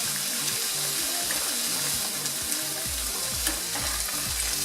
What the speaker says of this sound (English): That's the key to a good stir fry, keeping it moving.